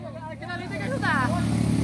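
A motorcycle engine revs and rises in pitch as the bike climbs a dirt trail during an off-road ride, partly buried under excited shouting from onlookers.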